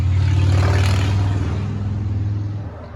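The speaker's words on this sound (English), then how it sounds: "As the bike revs by as loud as he possibly could." A motorbike revs hard and loud close by as it passes, its rough rumbling engine note peaking early and then fading steadily as it moves away.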